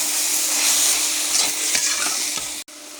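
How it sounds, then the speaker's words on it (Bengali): Ginger-cumin paste is stirred into cabbage frying in a pan with fish heads: a loud, close, continuous sizzle with scraping strokes, cut by a brief dropout near the end; no voices. "মতো আদা জিরা বাটা দিয়ে দিলাম, দিয়ে আমি নেড়ে দেবো।"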